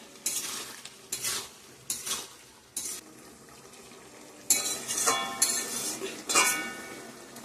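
Spoon stirring and sautéing ground chilli, coriander, cumin and turmeric in a pan for a pabda fish curry, with repeated scraping strokes and clinks over a soft sizzle.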